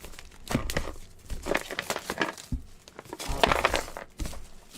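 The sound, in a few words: removing plastic wrapping from a Pokémon card box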